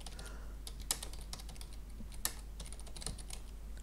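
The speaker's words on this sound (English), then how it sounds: "Typing." Someone typing on a computer keyboard, with irregular quiet clicks and a few sharper key strikes over a low steady hum, close and with no talk.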